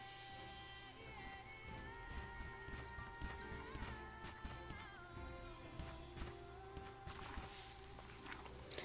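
A horse's hooves clip-clop at a steady walking pace in the Bella Sara video game, set against a continuous bed of game music and ambience, with no talk heard.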